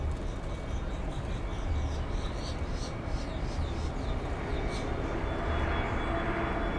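An American Airlines jet arriving at Miami International Airport, heard as a steady broadband roar of engine and airflow throughout, fairly loud and sustained, with faint voices in the background.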